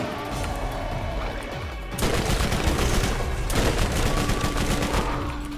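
Gunfire from a slow-firing gun in the Borderlands PC video game: dense, loud, continuous game combat noise, with a sharper surge of blasts and crashes partway through.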